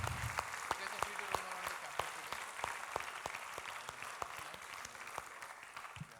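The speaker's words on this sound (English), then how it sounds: "Can we give the gentleman a huge round of applause?" Scattered clapping for a speaker at a seminar: a thin round of distinct, fairly sparse hand claps from a small audience, steady and fairly faint throughout, with some murmured talk underneath.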